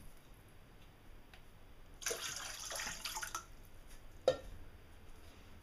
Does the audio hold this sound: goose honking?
no